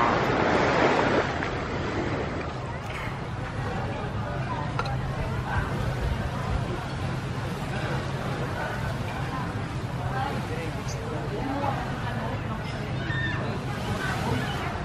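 Surf washing onto a beach in Boracay, a steady broad wash of breaking waves with wind buffeting the microphone, strongest in the first second and continuing throughout, with faint voices in the background.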